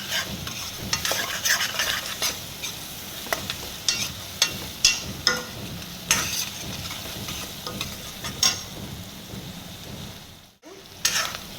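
A spoon scrapes and stirs through onions frying with spices in a pan, with a steady sizzle beneath. The repeated stirring strokes are close and clear, and no one speaks.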